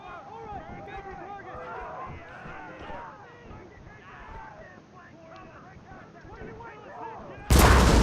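Artillery and gunfire boom through a Civil War video game siege of Fort Wagner, with machine guns and a gunboat firing amid continuous battle noise, overlapping game voices and a sudden loud burst at the very end.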